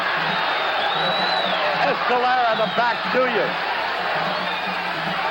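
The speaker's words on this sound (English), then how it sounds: "The crowd on its feet as one." A boxing crowd on its feet cheers through a round of the Alexis Arguello vs Alfredo Escalera bout, a dense, steady roar filling the arena while a commentator keeps talking over it.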